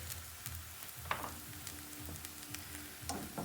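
A crepe fries in a pan with a steady soft sizzle, broken by a few faint scrapes and small ticks; no one speaks.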